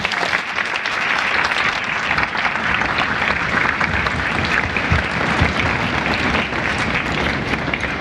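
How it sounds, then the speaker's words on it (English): Sustained applause from an audience at a school sixth grade band concert, steady dense clapping filling the whole stretch, loud and close with no talk over it. "So a huge round of applause."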